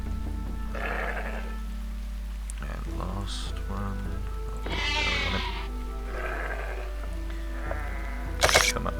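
Sheep bleating in the fantasy game Shroud of the Avatar, several short bleats scattered over a steady background with game ambience, while someone talks throughout.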